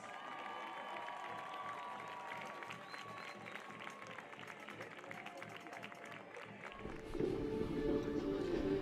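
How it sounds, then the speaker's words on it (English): Distant crowd applause with some cheering at a college football game, a steady wash of clapping that swells louder in the final seconds. "Please join us in one more round of applause for the Tufts football senior class."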